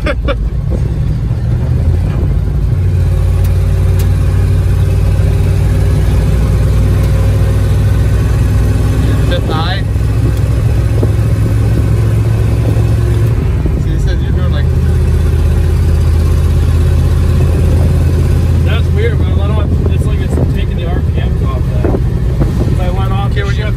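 A 1971 dump truck engine drones loud and steady throughout, with gear shifts grinding over heavy wind buffeting on the microphone. A voice talks over it at times.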